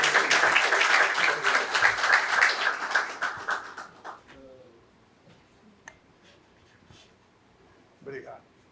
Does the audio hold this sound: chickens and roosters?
no